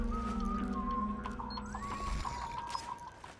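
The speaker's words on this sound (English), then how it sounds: "Do you hear whistling?" A soldier's tuneful whistling drifts through a Metal Gear Solid 4 game scene, a steady melodic tone over a low ambient hum and light background effects.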